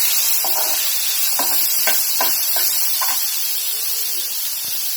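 Oil heats in a pan for chhole bhaji, giving a steady bright sizzling hiss throughout, with a few light scraping taps from a utensil against the pan.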